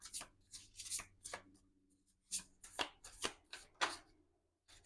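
Tarot cards being shuffled and drawn by hand, a run of crisp riffling bursts and soft papery slaps in uneven clusters, close and fairly quiet with short pauses between.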